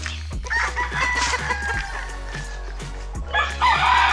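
Roosters crow loudly over a steady din of clucking hens, with more distant crows overlapping throughout a busy poultry yard.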